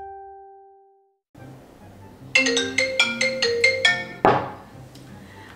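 A phone ringtone plays a bright, repeating electronic melody of quick notes after a short tone and a pause, ending in a soft thunk as the call is picked up.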